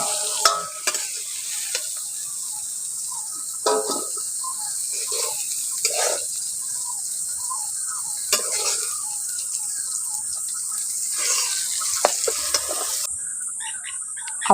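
Yardlong beans fry and get stirred in a pan, a continuous close sizzle broken by repeated scraping strokes of a spatula, with a brief clatter near the end and no voices.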